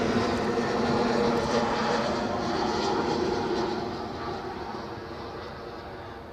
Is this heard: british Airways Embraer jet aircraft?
yes